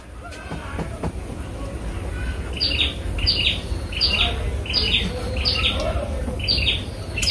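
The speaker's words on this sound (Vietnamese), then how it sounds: "Rồi mấy chim sâu nó kêu" Flowerpeckers chirping and singing outdoors, a repeated run of high, thin calls spaced through the clip over a steady background hiss, no voices.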